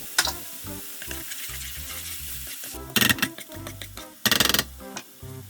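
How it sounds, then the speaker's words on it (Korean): Egg and vegetables scramble in an oiled wok-style frying pan, giving a steady close sizzle broken by spatula scrapes and a few louder bursts of frying, with no voices. "그 위에 계란 한 개를 그대로 넣고 야채와 함께 스크램블 해주세요"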